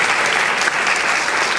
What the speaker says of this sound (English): But we still want to give them applause for that action.